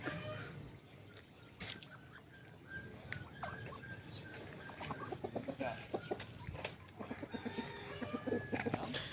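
Chickens clucking and a rooster calling around a farmyard in Santa Cruz, Ilocos Sur, Philippines, with scattered bird chirps and faint background voices, growing busier toward the end.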